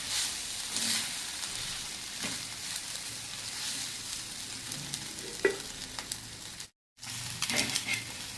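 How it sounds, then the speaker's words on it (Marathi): Wheat chotha dry-roasts in a pan and is stirred, giving a soft, steady sizzle with scraping and occasional light knocks. A brief silent gap falls near the end. "याला पण असं मस्त भाजून घेऊया आपण."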